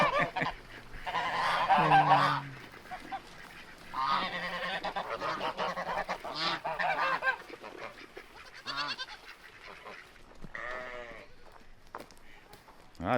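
Farm geese honk in bursts near the start and again in the middle, mixed with bleating farm animals, fairly faint and intermittent across the stretch.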